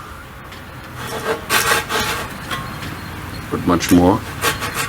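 Handsaw starting a shallow notch about 1/8 inch deep into a homemade volleyball net post, several short rasping strokes close by, with a person speaking briefly over the cutting.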